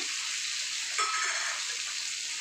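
Chopped ginger and tomato go into a pan of fried onions for a taro and rohu fish-head curry. A steady, bright sizzle runs throughout, with a brief stirring scrape near the one-second mark and no voices.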